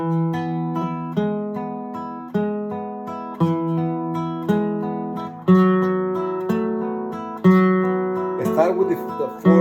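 An acoustic guitar plays E-chord double stops in thirds on the middle strings, a steady run of paired notes each plucked and left ringing, close and clear with no talking.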